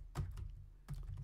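Typing on a computer keyboard, faint and close: two short clusters of soft key clicks separated by a brief gap, with no speaking.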